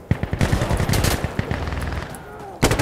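Rapid gunfire rattles through an Insurgency Sandstorm match, dense bursts of loud shots in quick succession, a brief lull, then a fresh sharp volley at the end.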